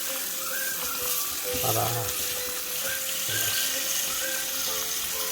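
Cooked spaghetti rinsed under a cold kitchen tap, with a steady hiss of running water and a voice speaking briefly over it.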